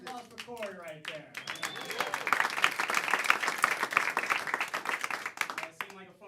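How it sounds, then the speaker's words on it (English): Applause and clapping from a comedy night audience, building through the middle and tapering off, with talk and crowd chatter mixed in at the start and end. "Applause for Corey right there."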